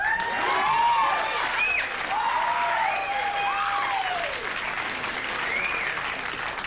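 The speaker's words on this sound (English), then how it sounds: "They just get together and for no reason they applaud." Steady applause from a television studio audience at Late Night with David Letterman fills the whole stretch, with a few whoops and cheers rising above the clapping.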